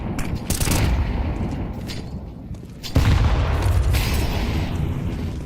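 A grenade blast and bursts of rifle fire in a professional Counter-Strike match, loud cracks and a heavy boom landing near the three-second mark, dense and close.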